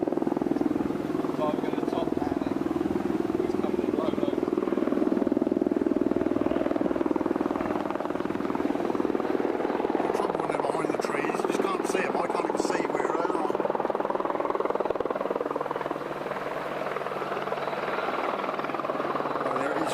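An Apache military helicopter flies low and comes in to land at Wattisham Flying Station, its rotor and engine roar steady and loud throughout, with faint voices in the background.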